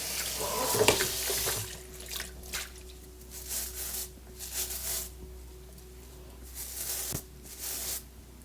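Tap water runs and splashes while an equine grooming brush is rinsed along its edges at a sink, a steady close stream with wet squishing and dripping bursts, no talking.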